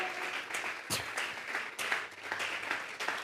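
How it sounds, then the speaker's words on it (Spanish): A church congregation breaks into applause as an offering of praise, a dense, fairly distant wash of many hands clapping with a few louder claps standing out and no clear talking. "vamos a regalar ofrenda de palmas al Dios de la gloria"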